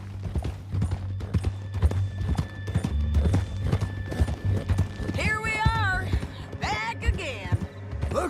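Horse hooves clip-clop steadily at a trot in Red Dead Redemption 2, loud and close throughout, with the horse whinnying near the end over faint game ambience.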